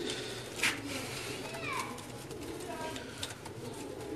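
Pigeons, some newly acquired and some long kept, coo at home in soft low calls. A brief sharper bird note rises out of a steady background hum, and a voice is heard in the clip.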